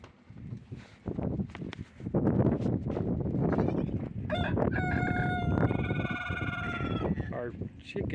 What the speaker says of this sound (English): Our rooster here, his crow's broken.